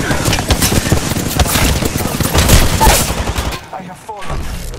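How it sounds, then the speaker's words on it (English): Apex Legends gunfire erupts in dense, loud automatic bursts for about three and a half seconds, with crackling rapid shots layered over game noise, then cuts off to quieter in-game sounds. "I am taking fire, friends."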